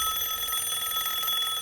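A continuous, shrill alarm-clock ring with a steady rapid pulse, loud and close, with no voices.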